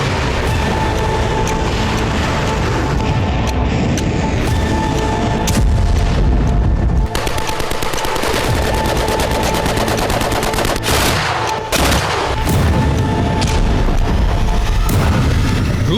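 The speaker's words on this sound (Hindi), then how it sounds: "पश्चिमी यूक्रेन में रूस के विस्फोट तेज हो गए" Russian strikes hit western Ukraine in a loud, dense barrage of booms and rapid gunfire-like bursts that pound almost continuously, with heavy low rumble throughout.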